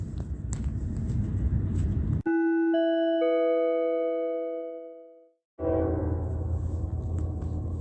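A long, steady train horn chord sounds alone for about three seconds, a second tone joining partway through, then fades out. A rumble of steady background noise comes before and after it.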